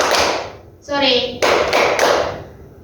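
Classroom of children clapping hands in a call-and-response game, a few sharp collective claps close by, mixed with a child's spoken calls.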